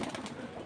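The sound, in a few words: pigeons cooing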